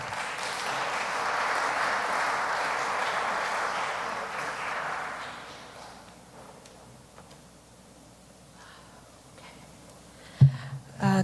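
An audience claps steadily for about five seconds to welcome a student government president to the podium at a Cleveland commemoration event, then the applause fades into quiet room noise with a few soft knocks and shuffles near the end.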